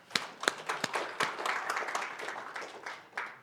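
Scattered hand claps from a church congregation build into a steady round of applause, close and moderately loud, with sharp individual claps standing out at the start and the clapping tapering off at the end.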